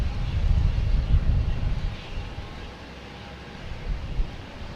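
An American Airlines plane arriving from Indianapolis at Boston Logan Airport makes a broad, low engine roar that swells and fades, with some wind rumble and no talk.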